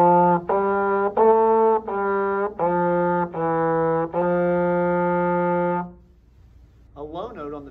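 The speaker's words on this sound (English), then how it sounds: "The typical range on the trombone sounds like this." A trombone plays a run of sustained notes stepping through its typical range, each held tone rich and brassy, before a brief voice begins speaking at the end.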